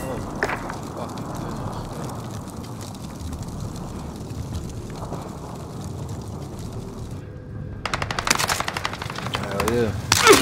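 Rapid automatic gunfire in a shooter video game rattles in bursts, growing denser toward the end, under a busy game soundscape while a player talks over it.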